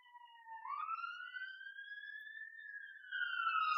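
An ambulance siren passes outside, one steady sweeping wail that rises slowly and then falls, fairly faint and heard alone without talk.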